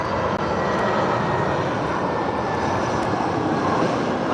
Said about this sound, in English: Nice A319 from Nantes EasyJet. Flap 4 landing